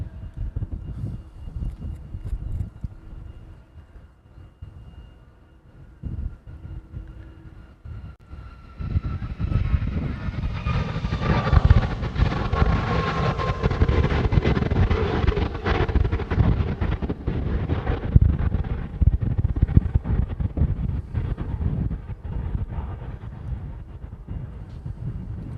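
An Alaska Airlines airliner departing Honolulu airport builds from a faint distant rumble into a loud, broad jet roar with wind buffeting the microphone, sustained for many seconds without talk.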